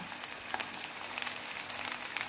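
Zucchini slices fry in a small amount of oil in a pan, a faint, steady crackling sizzle with scattered small pops, heard alone.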